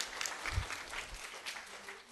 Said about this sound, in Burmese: လက်ခုပ်တီးကြရအောင်